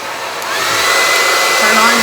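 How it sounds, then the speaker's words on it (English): A handheld blow dryer starts up and runs, a loud, close, steady rushing whir that swells slightly in the first half second and then holds, with a faint motor whine underneath. "Turn on your blow dryer."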